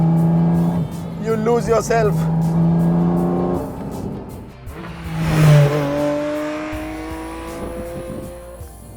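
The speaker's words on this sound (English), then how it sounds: "and as soon as the engine opens up," A loud 2023 Porsche 718 Cayman GT4 RS engine revs and climbs in pitch as it accelerates hard on a track, with a voice speaking briefly over the roar.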